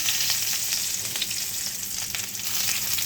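Whole garam masala hits hot oil left from frying duck eggs, giving a loud, steady close-up sizzle with crackling pops throughout.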